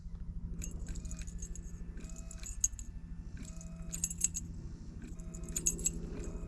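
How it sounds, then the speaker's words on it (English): A bunch of keys jangles close by in three separate bursts of bright metallic clinking, with a steady low engine-like hum running underneath throughout. "So I got these keys here"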